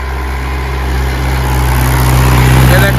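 A Mahindra 475 DI tractor engine runs steadily in a wet field, a loud, low, even drone that swells slightly in power toward the end, with no clear talk over it.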